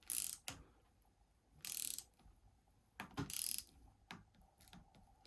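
A torque wrench tightens the stem bolts on a mountain bike to 6 foot-pounds, making several short, close ratcheting bursts separated by quiet pauses.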